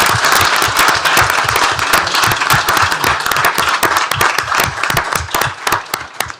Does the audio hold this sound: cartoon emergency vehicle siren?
no